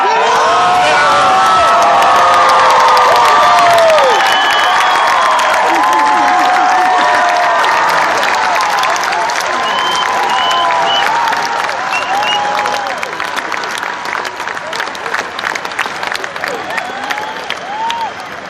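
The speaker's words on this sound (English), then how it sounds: "everyone is going to get up and give yourself a round of applause" Graduates at a University of Washington commencement ceremony break into loud, sustained applause mixed with cheers and whoops, a large crowd filling the space for the full stretch before the clapping thins slightly toward the end.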